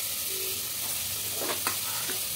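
Chicken pieces sizzle in a hot pan for chicken soup, a steady close frying hiss broken by a couple of soft stirring scrapes.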